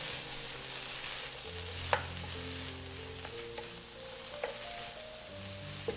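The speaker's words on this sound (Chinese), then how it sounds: "这时候我们把青红椒和蒜末也加进来，然后继续翻炒" Diced onions, green and red peppers and minced garlic stir-fried in a pan for shakshuka, a constant close sizzle broken by scraping spatula strokes and a few sharp taps.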